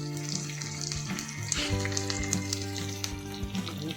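Sesame seeds, green chilies and curry leaves sauté in hot oil with a crackling sizzle and small pops, over a steady hum of tonal background music.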